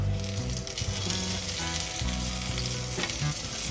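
Brinjal slices fry crisp in hot oil in a pan over medium flame, giving a loud, steady sizzle with occasional stirring and no talk.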